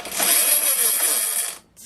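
Loud, sustained high-pitched whine of an electric drill spinning a dirt bike's rear wheel at very high speed, holding steady before cutting off abruptly near the end.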